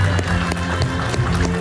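Applause from guests at a quinceañera, quick dense clapping from a crowd that goes on steadily for the full stretch, with music or voices running beneath it.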